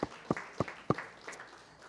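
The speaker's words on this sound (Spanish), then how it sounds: "También un aplauso para los papás." A small audience at a church children's event claps for the parents, with a few distinct, fairly quiet hand claps in a slow rhythm that soon trails off.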